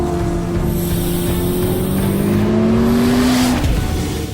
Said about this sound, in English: If the exhaust note in their teaser video published just a few days ago are anything to go off of